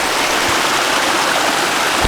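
The North Fork of the San Jacinto River rushes in a steady, close, broadband wash of stream water along a mountain trail, continuous and unbroken with no voices.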